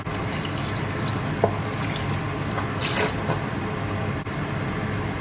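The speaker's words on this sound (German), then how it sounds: "Die fülle ich jetzt noch mal bis zur Hälfte mit Wasser auf." Tap water pours steadily into a cooking pot, filling it halfway for a stew with peanut butter and strained tomatoes; a continuous close splashing rush with a few small clinks.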